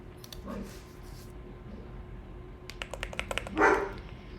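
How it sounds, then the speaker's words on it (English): Several dogs bark in the background, with the loudest bark near the end, while keyboard typing clatters in short bursts under steady room noise. "sorry about the barking dogs"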